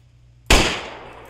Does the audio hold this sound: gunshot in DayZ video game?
yes